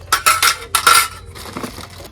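A few quick metallic clinks of plates and spoons knocking together, close and bright, with no talking.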